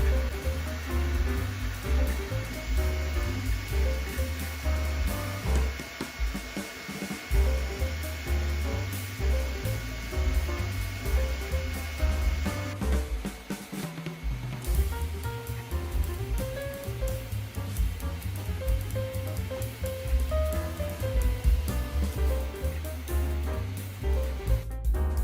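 A Sovol SV08 open-frame 3D printer runs fast at close range, a steady dense whir of stepper motors and fans with rapid shifting motor tones, continuous and fairly loud.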